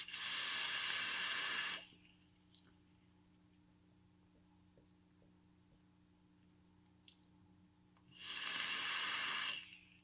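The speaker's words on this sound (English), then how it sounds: "vape at 75 watts" An e-cigarette drawn at 75 watts on Flux Deluxe e-liquid gives two loud hissing, crackling vapor pulls, one at the start and one near the end, separated by a long quiet stretch.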